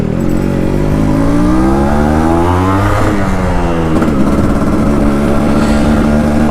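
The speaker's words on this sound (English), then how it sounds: "that two-stroke sounds beautiful, man, just beautiful" A restored Yamaha RX 100 two-stroke motorcycle engine revs up and down close by, with rising and falling blips that repeat over a steady, loud buzzing idle.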